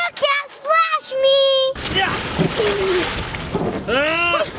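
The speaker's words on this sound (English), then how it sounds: "You can't splash me!" Ocean water is splashed at a child, a brief burst of splatter and sloshing midway through, amid children's excited high-pitched shouts and talk.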